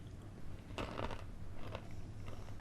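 Roasted chickpeas bitten and chewed close to the mic, with a few sharp, dry crunches followed by quieter chewing, no talking.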